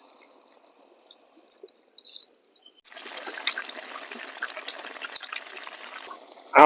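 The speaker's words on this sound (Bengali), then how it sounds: "এবারে ঝোলের জন্য জল দিয়ে দিচ্ছি।" Water pours into a pot of fish curry cooked with lai greens to make the broth, a steady trickling and splashing that starts midway after a quiet stretch and runs on at moderate level.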